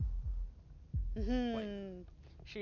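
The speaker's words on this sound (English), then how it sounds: "That was the sound of a heartbeat, followed by another" A slow heartbeat thumps in Slay the Princess, deep low pulses coming in pairs near and soft, with a voice speaking briefly over the later beats.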